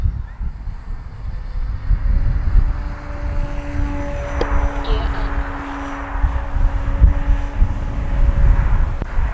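An E-flite Carbon Z T-28 RC airplane takes off from grass, its electric motor giving a steady whine over a rumbling outdoor background with faint voices nearby.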